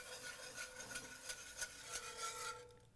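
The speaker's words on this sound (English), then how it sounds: "whisk in some milk" A whisk scrapes rhythmically in a pan as milk is beaten into seasoned flour and drippings left from frying steak, making gravy; a close, steady rubbing and swishing with regular strokes.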